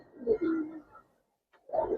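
Giribaz pigeons, racing-line birds, coo in two close, soft bursts separated by a short silence, with no voices present.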